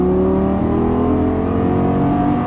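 A Lamborghini Gallardo LP550-2 V10 engine holds a loud, sustained rev under throttle on track, its strong harmonic drone rising slightly in pitch across a couple of seconds.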